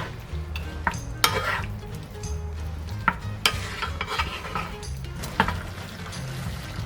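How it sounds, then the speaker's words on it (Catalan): Peeled, chopped tomatoes frying in olive oil in a pot: a continuous sizzle with frequent scraping and clinking of a utensil stirring against the pot, close and moderately loud. "aquí anem a sofregir els tomàquets pelats i trossejats"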